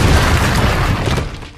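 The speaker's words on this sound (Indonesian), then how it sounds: "telah terjadi ledakan di terowongan 102" A deep, rumbling explosion inside a World War I tunnel, one loud, close boom that fills the space and then fades over under two seconds.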